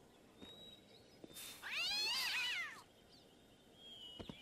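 A cat in the video game Gabriel Knight 3 lets out a single drawn-out, wavering meow in a quiet scene, clear and close with faint background ambience.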